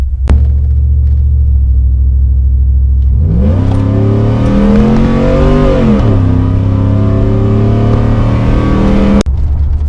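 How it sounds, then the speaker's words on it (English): Cammed 6.0 swapped Chevrolet Silverado truck, loud and close, idling with a lumpy rumble before pulling hard through the rev range at about three-quarter throttle, rising, dipping on a shift, then climbing again. "we're gonna go do a couple pulls through the RPM range, just like 3/4 throttle"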